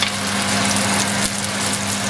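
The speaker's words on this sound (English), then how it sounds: "to the same pan, we are now going to add the aromatics, starting with the lemongrass" Lemongrass hitting a hot pan, a loud, close, continuous hiss of sizzling oil with a steady hum underneath.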